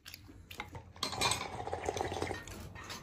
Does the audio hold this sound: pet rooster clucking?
no